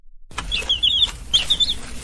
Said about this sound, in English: it's that little chick